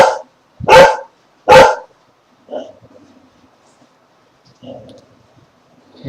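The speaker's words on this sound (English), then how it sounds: "Sorry if you can hear my dog barking there." A dog barks loudly and close three times in quick succession, then two softer, shorter sounds follow with quiet gaps between, in an otherwise silent indoor room.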